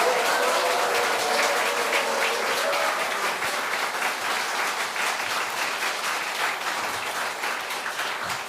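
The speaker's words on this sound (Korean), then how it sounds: "아까 목사님 했던 것보다는 2배로 우리 축하와 축복의 박수 한번 하도록 하겠습니다." A church congregation at a pastor's installation thanksgiving service breaks into steady, sustained applause, loud and dense throughout, easing slightly near the end.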